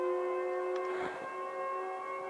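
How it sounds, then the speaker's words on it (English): A steady droning warning siren wails in the horror video game Siren Head, its layered tones holding level for a couple of seconds with a brief higher blip and a muffled thud partway through. "Is that a warning siren?"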